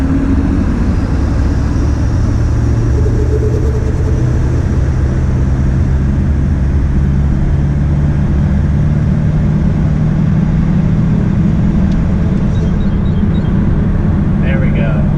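Ford 7.3 Powerstroke diesel pickup under a full throttle pass, a steady loud droning engine roar with deep low rumble filling the whole stretch, heard from inside the cab.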